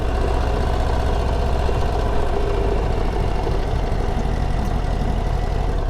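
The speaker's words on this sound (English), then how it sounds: "I love that you can hear the engine sound." A Harley-Davidson Low Rider ST motorcycle engine idles nearby with a deep, uneven throbbing rumble that holds steady throughout.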